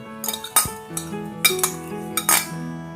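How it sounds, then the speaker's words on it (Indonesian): A spoon stirs a cucumber Pop Ice drink with grated cucumber mixed in, clinking against the container in a few distinct close, bright knocks amid soft swirling. "Kita aduk sampai rata semuanya."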